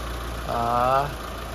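A refreshed Mitsubishi Lancer 4G15 engine idles steadily, a low, even hum that swells slightly for about half a second in the middle before settling back.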